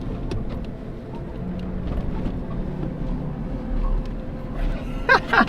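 A vehicle driving over sand dunes in Qatar, a steady engine rumble with wind and rattling inside, under occasional voices.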